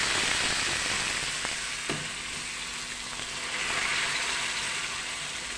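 Hot lentil soup poured onto fried vermicelli in a pot, giving a strong, steady sizzle and crackle throughout, close and loud with no talking.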